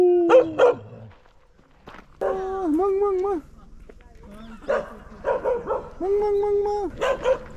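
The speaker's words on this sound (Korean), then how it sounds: "기기암인데 개가 우리를 반겨주고 있네요." At a mountain hermitage, a dog barks in short bursts near the listener, mixed with stretches of people talking and footsteps.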